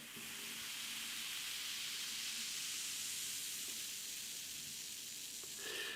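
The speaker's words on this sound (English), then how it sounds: "Could you hear that hiss and fizz and angriness in the beer?" A steady, close hiss of beer fizzing in a glass crackles continuously, carbonation foaming, with no voices.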